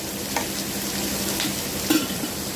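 Onions sautéing with a little salt in a pan for rice adai, giving a steady close sizzle with a few louder stirring scrapes near the end.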